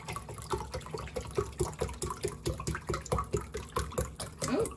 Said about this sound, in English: you're going to do 2 cups of beef broth.